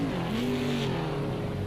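Race car in Project Cars 2 braking into a chicane: a loud engine note sweeps downward as the car slows, with a steady rushing roar underneath.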